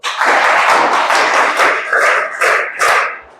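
Children at a residential school for blind children clapping in thanks, a close, loud burst of many small hands that thins into a few uneven separate claps toward the end.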